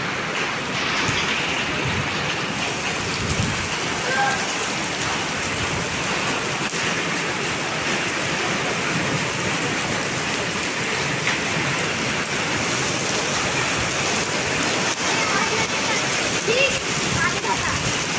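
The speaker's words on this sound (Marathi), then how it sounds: "पहा इथे गारांचा पाऊस चालू आहे" Hail pours down hard and steadily, a loud, dense pelting roar on surfaces that never lets up.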